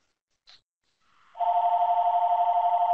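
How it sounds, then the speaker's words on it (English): A telephone rings in a quiet room, one brief click followed by a steady, loud electronic ringing tone that starts about a second and a half in and holds to the end. "sorry, I'm gonna wait till the phone's done"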